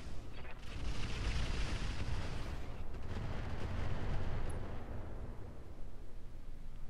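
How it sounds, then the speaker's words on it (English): Mech weapons fire in RogueTech BattleTech, with a sustained roar of heavy booming blasts that sweeps through the opening seconds, then eases into a rumbling tail. "Let's just fire at this guy."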